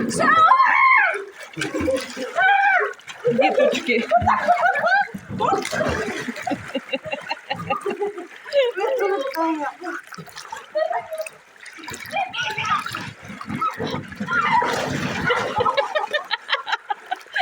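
Water splashing and sloshing in a swimming pool where children play, with lively chatter, shouts and laughter from nearby voices over the continuous splashing.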